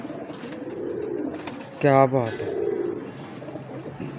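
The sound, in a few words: pigeon cooing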